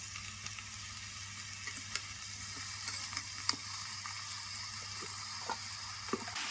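Eggplant and potato frying together in a pan, giving a steady hissing sizzle with faint scattered pops and a low hum beneath, no voices.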